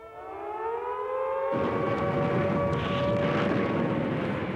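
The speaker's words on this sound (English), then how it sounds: "they did when the air raid sirens sounded" A wailing air raid siren holds a rising tone, then a dense roar of engines joins in and continues under it.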